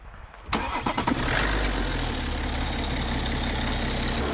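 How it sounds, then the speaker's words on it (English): A BMW 430d diesel engine with Stage 1 tuning cranks briefly and catches, then settles into a steady, close, low idle rumble. "he will start the car. So you can hear what this diesel engine sounds like"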